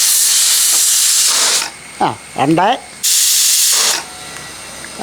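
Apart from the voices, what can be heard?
pressure cooker hissing, releasing steam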